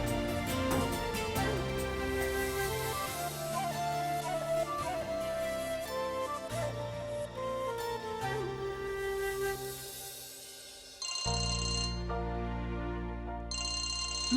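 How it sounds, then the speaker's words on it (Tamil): A melodic phone ringtone plays continuously, a bright electronic tune with steady repeating notes that shifts to a sustained chiming pattern near the end, alone with no voices. "மாலதி ஃபோன் பண்றா."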